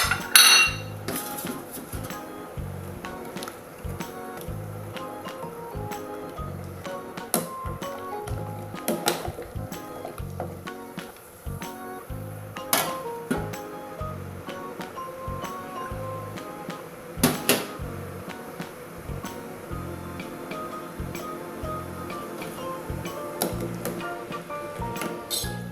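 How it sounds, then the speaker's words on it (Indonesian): Sugar stirred into boiling water in a cooking pot for banana and palm-fruit kolak, giving steady clinks and scrapes of a spoon against the pot throughout, close and fairly quiet, with no talk. "Aduk-aduk dulu biar gulanya cepet larut."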